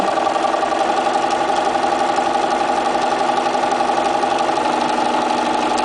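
A sewing machine stitches fusible appliqué in one continuous, even motor whir that holds steady and fairly loud from start to finish, with no voices.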